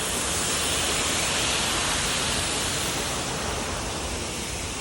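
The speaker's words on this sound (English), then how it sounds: "so we are at this waterfall" A forest waterfall roars as a loud, steady, dense rush of water that fills the whole clip, with no voices.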